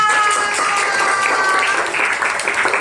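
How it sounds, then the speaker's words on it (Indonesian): An audience in a classroom-style gathering gives a short burst of loud, dense clapping, with a faint voice tone over the first part. "Oke, tepuk tangan buat Kansa."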